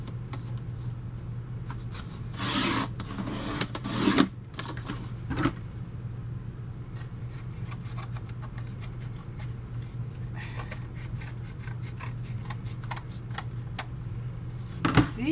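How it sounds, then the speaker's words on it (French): A craft blade cutting cardboard pieces for a handbag-shaped album, heard as short, close, scratchy scoring strokes in several bursts over a faint steady hum, with quiet pauses between them. "vous partez votre lame à partir d'ici et vous allez couper jusqu'à la pointe"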